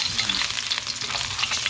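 Ginger frying in hot oil in a pan, a dense continuous sizzle and crackle heard close and alone with no voices.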